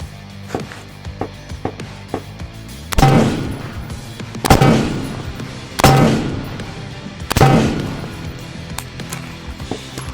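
Four loud, sharp gunshots fired at a target through a rifle fitted with an Eotech 512 holographic sight, evenly spaced about a second and a half apart, each with a ringing decay, after a few quieter clicks and handling sounds.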